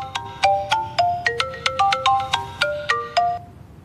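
A phone ringtone plays a bright, repeating electronic melody of quick plucked notes, about a dozen tones in a steady rhythm before stopping, clear and moderately loud in a quiet room.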